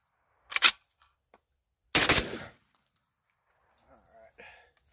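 Two loud, sharp shots from a Garaysar Fear-103, a Turkish AK-style shotgun, fired about a second and a half apart outdoors, followed by faint clicks and soft rustling.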